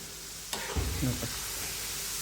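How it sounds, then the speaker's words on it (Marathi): Raw banana chips frying in hot oil, stirred with a slotted spoon; a sharp clink of the spoon on the pan is followed by a short burst of scraping and sizzle that settles into a steady low fry, with no talking. "आता हे झारण्याने मी चांगले हलवून घेते एकदा"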